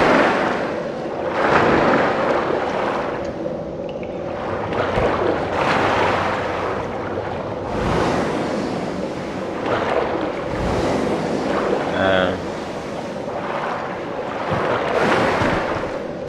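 Water rushes and splashes around a swimming character in Sekiro, a steady surf-like wash with breezy noise and a few louder surges, heard up close with no talking.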